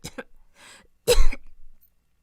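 A woman coughs in a few short, dry bursts, then lets out one louder, harsher cough up close, with a brief trailing rasp before silence. She has been coughing constantly for days.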